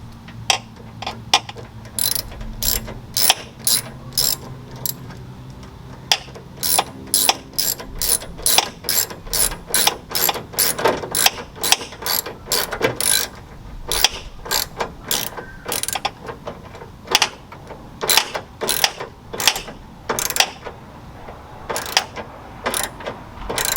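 A ratchet tightens a hose clamp on a transmission cooler hose fitting in a Chevy OBS truck during an LS swap, giving loud, close, rapid clicking bursts that repeat steadily in short runs with brief pauses.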